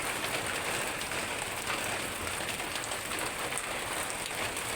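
Heavy, nonstop rain falls outdoors under dark clouds, a constant broad wash of drops pattering on surfaces at even loudness from start to end, with no one speaking.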